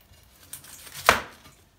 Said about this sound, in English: So just going to roughly chop up these and pop them in the crock pot of the slow cooker.